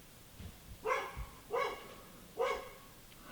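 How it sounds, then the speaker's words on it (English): A dog barks three times at moderate distance, short sharp harmonic barks spaced roughly a second apart, with quiet background between them. "That's Kobe barking"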